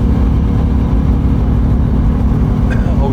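A 1970 Mach 1 Mustang's engine rumbles steadily as the car is driven, a loud, close low drone from start to end, with a voice briefly audible near the end.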